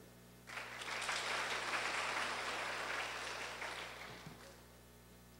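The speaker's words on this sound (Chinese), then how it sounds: "那我们先掌声欢迎。" A conference audience at PyCon Taiwan 2012 applauds to welcome a speaker, a steady wash of clapping from a moderately distant crowd lasting about four seconds before fading out.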